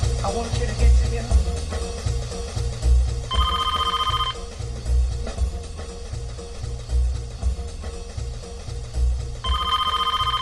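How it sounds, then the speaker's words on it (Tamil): A telephone rings in loud, repeated bursts, each ring sustained about a second with pauses between, set over a dense background of low rumbling sound. "ஃபோன் அடிக்கிற சத்தம் உனக்கு கேட்கலையா?"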